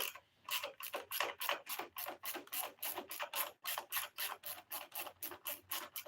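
A ratchet wrench works a bolt loose with rapid, regular clicking strokes, heard close and fairly quiet in a steady repeating rhythm.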